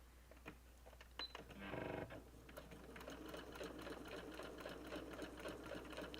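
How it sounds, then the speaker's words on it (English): A sewing machine runs in a quick, rapid stitching burst, then keeps up a steady mechanical whirring, faint and close, with no talking. "I'm going to use my sewing machine because it's easier."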